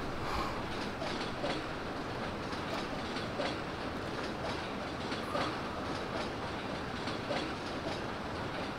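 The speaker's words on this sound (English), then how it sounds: "It's very noisy, I know that, but what the fork? It's trains. Trains are noisy." Trains in a railway-building video game rumble and clatter continuously, with rhythmic clickety-clack and occasional brighter wheel squeals over a steady dense din.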